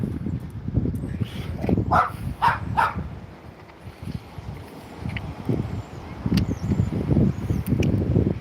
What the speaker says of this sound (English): Always a little dog, isn't it?